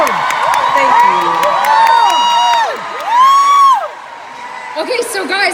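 A large conference audience at the 2018 United State of Women Summit cheers, whoops and screams loudly in sustained waves, with shrill yells rising and falling throughout and brief speech over the crowd near the end.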